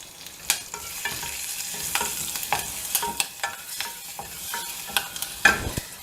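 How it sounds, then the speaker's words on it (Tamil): Cumin seeds, asafoetida and green chillies crackle and sizzle in hot ghee, with sharp pops and spatters over a soft frying hiss and occasional stirring scrapes, fairly quiet and close. "அதுல நான் சீரகம் போட்டுக்கிறேங்க. அப்புறம் பெருங்காயத்தூள் போட்டுக்கிறேன், பச்சை மிளகாய் போட்டுக்கிறேங்க"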